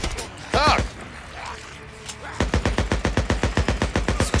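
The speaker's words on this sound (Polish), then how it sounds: "Słyszę strzały." Rapid bursts of automatic gunfire in the video game Days Gone, a brief loud shot early on, then a steady run of evenly spaced sharp shots over the last two seconds, close and loud.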